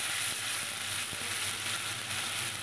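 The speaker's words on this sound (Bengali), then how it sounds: "এবার যে মশলাটা পেস্ট করে নিয়েছি ওটা তেলের ওপরে দিয়ে দিলাম।" Ground spice paste hisses and crackles in hot oil, a steady close sizzle with a few faint clicks underneath, after cumin and bay leaf were tempered, while cooking a snakehead fish dish.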